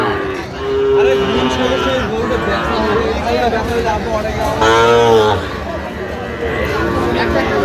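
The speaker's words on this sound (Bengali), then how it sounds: "ষাঁড় বাচ্চা" A Sahiwal bull calf moos repeatedly in drawn-out, loud calls close by at a cattle market, with a crowd chattering in the background.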